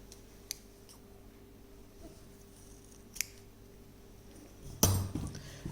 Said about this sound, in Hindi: यहाँ पर धागा काट देंगे